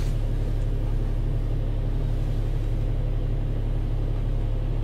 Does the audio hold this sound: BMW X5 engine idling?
yes